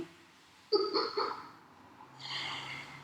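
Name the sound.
breathing in through the nose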